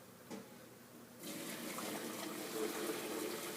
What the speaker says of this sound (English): you put in boiling water once again. Just clear boiling water.